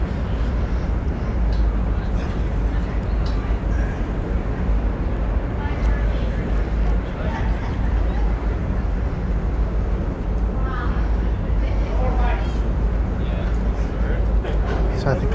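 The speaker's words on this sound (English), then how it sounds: "Engines are starting." The Coho ferry's engines start up and settle into a low, continuous rumble heard from on board, with people talking over the steady drone.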